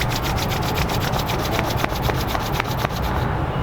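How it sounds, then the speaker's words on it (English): Palms rubbed briskly together during a yoga session, a continuous dry rasping swish with a steady back-and-forth rhythm, close and loud, with no voice over it. "Rub your palm."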